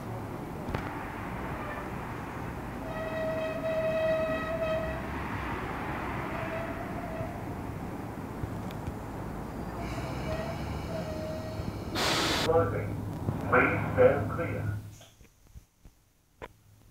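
A Sydney S set electric train, S113, sits at Lidcombe station with a steady low rumble, broken by two stretches of tonal whine before the sound drops away to near silence at the end.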